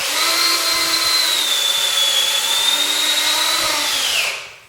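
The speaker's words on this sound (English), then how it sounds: "So we're going to drill this hole" A power drill whines steadily at high speed for several seconds while boring a hole in wood, loud and close, then winds down and stops.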